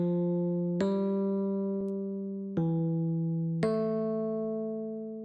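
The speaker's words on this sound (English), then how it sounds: "this is what our bass line sounds like" A pluggnb beat's bass line built in FL Studio plays alone as clean, sustained synth notes. Four notes are struck in a slow rhythm, each ringing and gradually fading, at moderate level.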